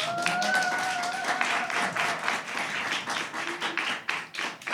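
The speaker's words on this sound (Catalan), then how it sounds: "Públic, aplaudiu." A small studio audience at a Catalan podcast recording claps together. The applause is close and irregular, with a faint whistle-like tone early on, and it thins toward the end.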